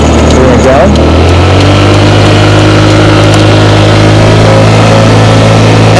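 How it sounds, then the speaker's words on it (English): A 2004 Honda Elite 80 scooter, 80cc single-cylinder air-cooled carbureted, runs with a steady, close engine drone and a brief rev near the start, while a person talks over it throughout. "this is a 2004 Honda Elite 80. It is a 80cc, single cylinder, air-cooled, carbureted, little Honda scooter, moped"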